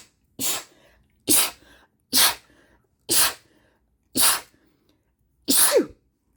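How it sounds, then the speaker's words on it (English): Six sharp sneezes in a row, each a loud burst of breathy spray with brief quiet between them, spaced roughly a second apart. "Oh, I'm going to sneeze."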